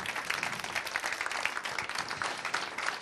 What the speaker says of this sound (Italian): proporre un applauso veramente forte e intenso a tutti quanti voi